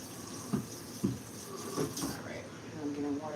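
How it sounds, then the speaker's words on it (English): A kitchen tap runs into a sink with irregular splashes and gurgles at close range, while someone talks over the water. "I'm getting water everywhere."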